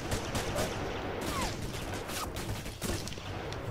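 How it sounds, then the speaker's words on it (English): Gunfire in the video game Alpha Protocol, a sustained rattle of rapid shots that carries on for several seconds as a dense, loud volley. "Let's see if I can shoot him with this thing."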